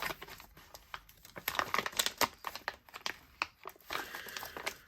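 A plastic packaging bag is torn open and handled, giving a run of close, uneven crinkles and sharp crackles with short pauses between bursts.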